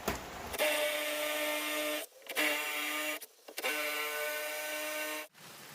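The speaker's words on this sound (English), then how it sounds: "now all I've got to do is drill out these holes to put in the threaded inserts" A power drill boring holes in plywood for threaded inserts whines steadily in three long bursts separated by short pauses, close and loud, with a harmonic motor tone.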